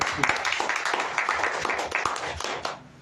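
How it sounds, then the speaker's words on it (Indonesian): Church congregation applauding during a Sunday service, a dense burst of many hands clapping that fades toward the end. "kasih tepuk tangan tuh saudara"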